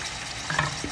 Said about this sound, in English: I'm gonna fry my chicken for another 2 to 3 minutes